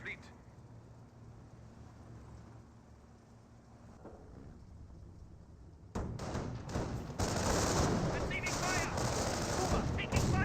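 Rifle shots and machine-gun bursts in a Company of Heroes battle, Wehrmacht grenadiers firing on US troops, quieter and scattered at first, then turning into a dense, louder volley after about six seconds, with a voice talking underneath.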